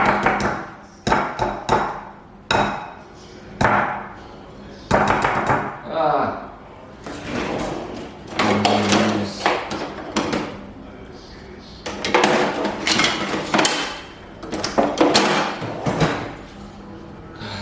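A wooden spatula folds flour into a butter and sugar mixture in a mixing bowl, giving irregular close knocks and scraping taps in bursts.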